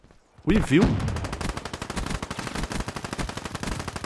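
Weevil submachine gun in Black Ops 3 firing a long, rapid, steady stream of shots at close range after a short burst of louder reports. The rattle is loud and continuous, with no talk over it.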